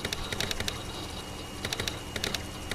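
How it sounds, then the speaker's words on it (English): Keystrokes rattle on a computer keyboard while a player works through a VR typing trainer, with bursts of quick taps separated by short pauses, sounding close and fairly soft. "This game actually has no controls other than the keyboard, which is pretty unusual."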